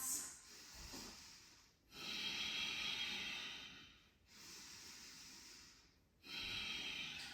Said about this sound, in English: 3 more deep breaths.